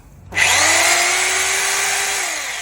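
An orange Onsen 2-28 rotary hammer drill with a 5-metre power cord switches on after a brief silence and runs alone, a loud, steady, high motor whine that eases slightly toward the end.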